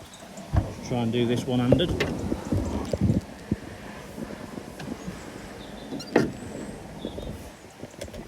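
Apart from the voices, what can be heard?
bonnet release of a 2015 Isuzu D-max being popped open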